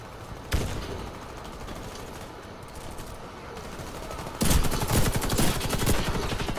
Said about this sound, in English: He was shooting that way and I was taking damage.